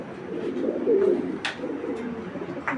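A female Kitel pigeon held in the hand outdoors in daylight gives low, soft cooing close by, a single murmuring phrase with a couple of faint clicks, and no talking.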